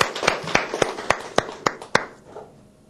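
Applause thanks three participants who shared their experiences. It comes as about seven crisp, evenly spaced claps, then fades into quiet room tone.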